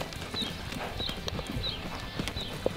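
Horse hooves clip-clop at an even walking pace in the countryside, with faint outdoor background noise and no one speaking.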